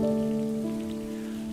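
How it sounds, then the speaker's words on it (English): Steady rain falling in an empty town at night, a constant close hiss of drops on surfaces with a low tonal hum running underneath, no voices. "the constant white noise of the falling rain underscores the creaks of signs swinging in the wind"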